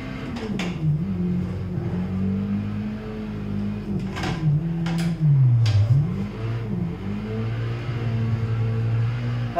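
Nissan Silvia S15 engine revving hard while drifting in Assetto Corsa, a continuous loud engine drone whose pitch rises and dips with throttle, punctuated by a few sharp clicks.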